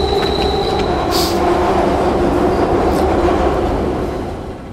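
A train passes close by with a loud, continuous rumbling roar of wheels on rails, a faint squeal and clattering, slowly fading toward the end.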